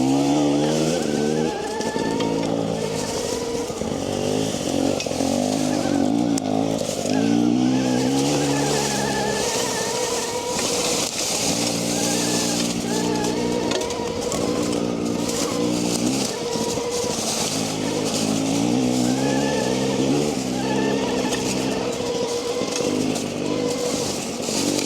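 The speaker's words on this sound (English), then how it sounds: "I would probably consider this bike a 72 volt street legal dual sport." NIU XQi3 72V street-legal electric dual-sport dirt bike ridden on dirt, a continuous close motor whine rising and falling in pitch with speed over steady wind and tire noise throughout.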